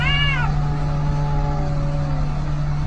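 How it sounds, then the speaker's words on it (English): Cat meowing with a long, falling wail that trails off over a steady low hum, sounding like one cat's drawn-out yowl from a fight rather than a scuffle, moderately close. "Cats fighting."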